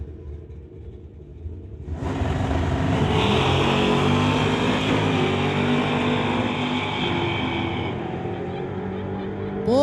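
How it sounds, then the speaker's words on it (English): Drag race between a nitrous-powered 1978 Malibu with a 383 and a 1971 Pontiac: loud, sustained engine roar that surges in after a quieter idle rumble, holding steady and close as the cars run. "John Verbeek in the 1978 Malibu nitrous powered 383 going against Joel Smith from Abbey in the 1971 Pontiac"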